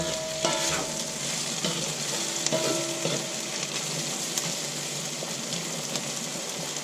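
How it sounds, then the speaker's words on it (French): Sweet potatoes, potatoes and onions stirred together in a spiced pan, a steady frying sizzle with occasional utensil scrapes and knocks against the pan, close and moderately loud. "Et de nouveau, mélanger avec les pommes de terre et les oignons."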